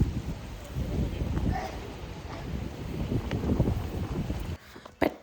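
Strong gusting wind buffets the microphone outdoors as the weather suddenly turns stormy, blowing dust, with a steady rushing roar for several seconds before dropping away, then a brief loud knock near the end.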